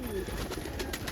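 A young crested pigeon coos softly inside a pigeon loft, a short low murmuring call over a dense hum of background noise.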